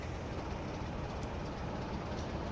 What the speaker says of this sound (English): More trains going by.